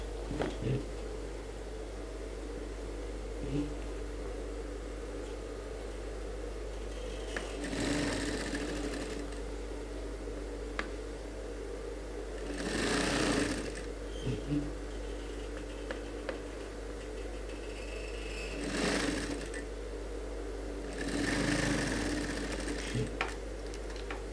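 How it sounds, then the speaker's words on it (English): A sewing machine stitches both sides of a suit in several separate runs of a few seconds each. Each run is a moderately loud mechanical whir, with quiet pauses, faint ticks and a steady low hum between them. "you sew the both sides"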